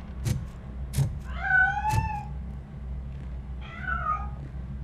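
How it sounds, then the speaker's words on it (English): A cat meows twice in RoboCop Rogue City, two drawn-out wavering cries a couple of seconds apart, near and clear, with sharp thuds and clicks around them. "That cat must be hiding inside."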